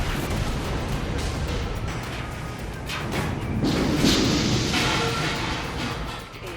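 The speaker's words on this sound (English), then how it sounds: "A malfunction causes an explosion and Monkey is freed from his prison." A malfunction-triggered explosion in the video game Enslaved: Odyssey to the West, a dense, loud, sustained roar of blasts and debris that swells around the middle and eases off toward the end, with no speech.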